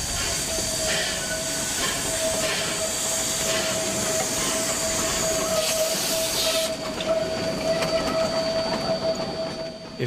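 A Denver & Rio Grande Western narrow gauge steam locomotive, number 346, runs with its train at a steady rolling rumble, with a thin high squeal of wheels and soft hissing sustained throughout.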